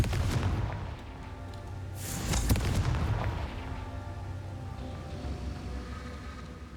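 Confringo explosion spell cast in Hogwarts Legacy, a deep rumbling boom that peaks sharply once over a low, continuous game ambience.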